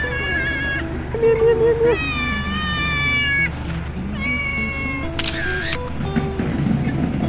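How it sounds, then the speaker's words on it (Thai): A cat meows repeatedly near a group of motorcyclists on a morning stop at Kaeng Krachan, its drawn-out cries close and clear over low background noise and a voice. "แล้วก็มีเหมียวมาหานะฮะ"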